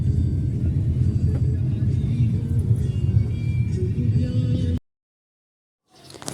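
A new car driving along a road to the shops, with a steady low engine and road rumble under people talking, cutting out abruptly near the end before the sound returns.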